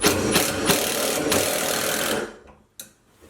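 Rapid, loud mechanical rattling from an impact driver used as a hammer in bursts for about two seconds while replacing a shower mixing valve, then a single sharp knock after a short pause.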